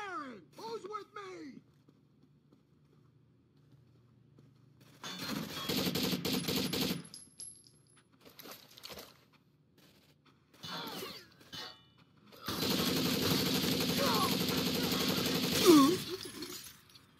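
Firefight in Rainbow Six Vegas 2 Terrorist Hunt at a convention center, with two sustained bursts of loud automatic gunfire and shattering separated by quieter stretches, plus shouting voices between them.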